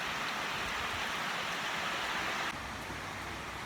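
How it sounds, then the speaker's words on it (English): Steady rain pours down in a Texas garden during a garlic harvest, a dense, even hiss of falling drops that continues throughout with no voices. "Hopefully the rain will let up in a little bit."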